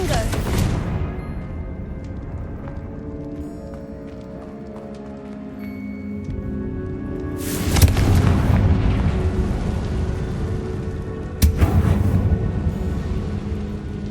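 Confringo fire spell blasts in Hogwarts Legacy, with a burst at the start and two sharp explosive cracks later, each followed by a rumbling tail, over a quiet ambient game soundscape.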